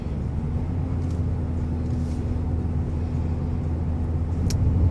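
A Mercedes-Benz GLE350 cruises along a road, heard from inside as a steady low engine hum and road rumble, with faint brief ticks and no voices.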